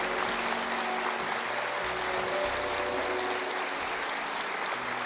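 A church congregation applauds together in a steady, dense wash of clapping that fills the whole moment without letting up, with a faint low hum running underneath.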